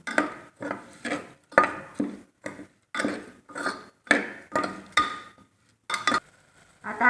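Masala bhat rice stirred in a pot, with a steady rhythm of a dozen or so close, distinct scraping and clacking strokes of a spoon against the vessel, each short and evenly spaced, and no talk.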